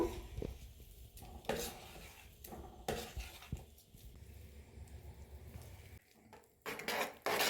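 A spoon stirs mashed sweet into reducing milk in a pot for malai laddu, giving repeated scraping strokes and soft clinks against the pan at an irregular rhythm, close and fairly quiet, with no talk.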